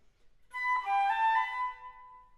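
A Baroque flute plays a tongue-one, slur-three articulation pattern, a short run of clear, airy notes with one tongued note followed by three slurred ones, solo and up close with no voices.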